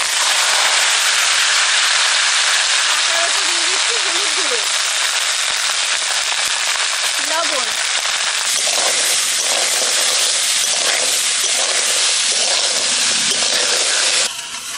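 Crabs frying in hot mustard oil in a wok over a village stove, a loud steady broadband sizzle that carries the whole way through, with faint voices under it and the sizzle breaking into crackling spatters toward the end.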